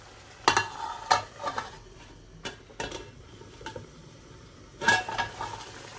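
Fish and spices frying in a pan for a Sylheti sour curry with ginger and lemon, stirred with a utensil. Intermittent scrapes and clinks against the pan sit over a soft, steady sizzle, with no talking.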